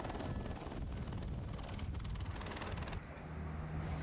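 A helicopter evacuating injured skiers at the Peyragudes ski station in the Pyrenees fills the air with a loud, constant rotor roar and whine that stays strong throughout, with no talk over it.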